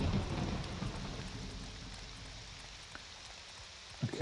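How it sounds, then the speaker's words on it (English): Steady rain falling in the video game Morrowind, a dense, even hiss of downpour that holds for several seconds at a constant level, with a couple of soft thumps near the end. "that's what happens if you walk out in the rain"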